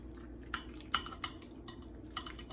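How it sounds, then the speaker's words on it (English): A spoon scoops tuna salad into iceberg lettuce, giving several light clinks and scrapes against a dish in an uneven rhythm, close and quiet with no talking. "a little bit less than 1 spoonful of tuna salad, and I'm going to place it in the iceberg lettuce"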